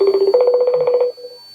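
A phone rings with an incoming call, a pulsing electronic ringtone of rapid repeated tones that plays loudly for about a second before stopping.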